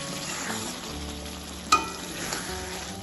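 Okra sizzles gently in a pan with mustard oil and chopped coriander as it is lightly stirred, a steady soft frying hiss with one brief sharp clink of the utensil midway.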